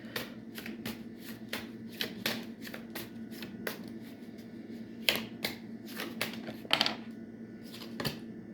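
Tarot cards are shuffled by hand close up, a run of crisp riffling bursts repeating in a loose, uneven rhythm over a quiet low background hum, with no talking.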